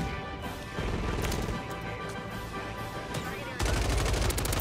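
Rapid gunfire from a Ram 7 assault rifle fitted with a Trident X in Call of Duty: Modern Warfare 3, sustained loud bursts running the whole time with a sharper, denser volley near the end.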